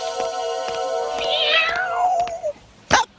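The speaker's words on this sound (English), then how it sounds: "Cat in distress." A loud, drawn-out wailing cat meow in an animated cartoon, sliding downward in pitch, followed by a short sharp noise.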